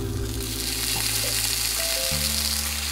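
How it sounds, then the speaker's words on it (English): Uncured bacon in a hot non-stick skillet set on high, giving a loud, steady crackling sizzle over a low droning hum and tonal background noise, with no voices. "Get the skillet hot, put it on high, and then lay the uncured bacon in the skillet."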